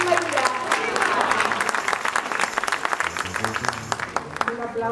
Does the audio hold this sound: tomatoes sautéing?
no